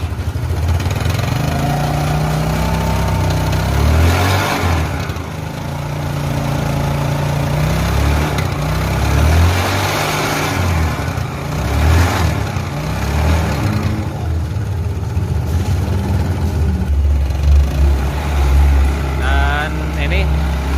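A Yamaha Mio Sporty scooter with a rough-sounding CVT revs up and down repeatedly, a loud close engine drone rising and falling over several throttle blips, with someone talking over it.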